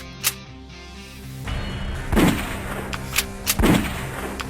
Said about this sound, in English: they rush to the roof and open fire on the mercenaries